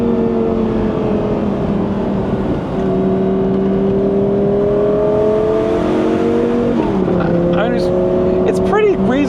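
A Lamborghini Gallardo Spider with E-gear transmission revs loudly with its exhaust valves open. The engine drones at a sustained high pitch, drops briefly on a gear change and climbs again, with sharp crackles near the end.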